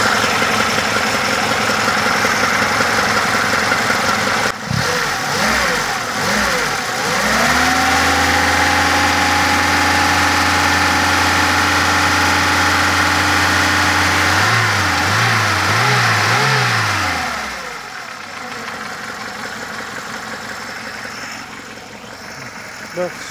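A car engine with a rattling fault idles roughly, then is revved and held at raised speed for several seconds before dropping back, loud and close, with someone talking at the start and end.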